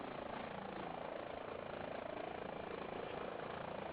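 A helicopter in a flight simulator video game powers up for takeoff, its rotor and engine giving a steady, even drone with a faint rhythmic chop, moderately loud and alone.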